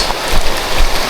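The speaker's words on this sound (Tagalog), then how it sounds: "Pambihirang ulan to." Heavy rain pours on a slippery outdoor road, a loud, steady, dense hiss of drops that swells slightly and never lets up, with no talking.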